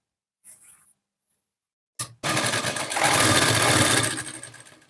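A sewing machine stitches a blouse lining next to its piping, starting with a short burst and then running in a steady, close, continuous whir for several seconds, with no voices.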